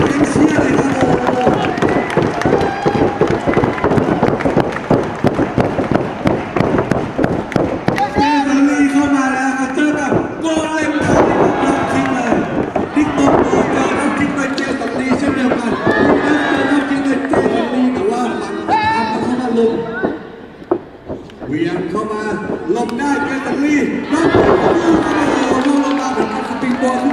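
Crowd cheers and shouts at a Sawasdee Cup 2017 pro wrestling match, a loud, continuous roar filling the hall with bursts of excitement, a commentator speaking over it and a brief dip near the end.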